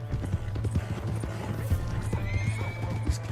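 In Red Dead Redemption 2, a horse's hooves clop rapidly and rhythmically at a gallop, close and clear, with a whinny rising above the hoofbeats and a low steady rumble underneath.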